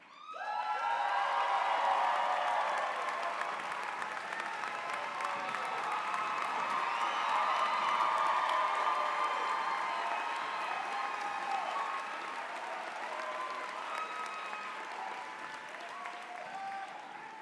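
Sustained, dense applause from a large university commencement audience, rising quickly and holding steady for a long stretch, with scattered cheers mixed in before easing slightly near the end.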